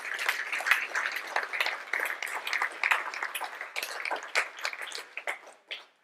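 A church congregation applauds during a Sunday service, a scattered patter of hand claps that builds briefly and then thins out, moderately loud and free of talk.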